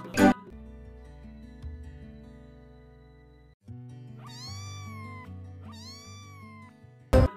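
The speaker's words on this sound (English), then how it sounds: "C for cat." Two clear cat meows rise and fall over a light backing melody of a children's alphabet song, each drawn-out and fairly close, separated by a short pause.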